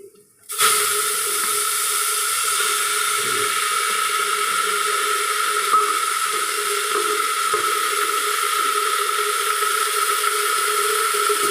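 Red amaranth greens sizzle loudly in hot oil with a little turmeric, Bengali home cooking. A steady, dense frying hiss starts abruptly after a short silence and carries on evenly.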